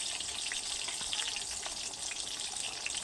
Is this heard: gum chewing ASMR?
no